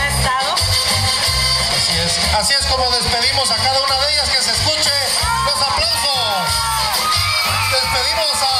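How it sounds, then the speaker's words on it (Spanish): A large audience at an orange fair queen coronation cheers and applauds, with shouts and whoops rising over a dense, steady roar of crowd noise that fills the whole stretch. "que se escuche los aplausos"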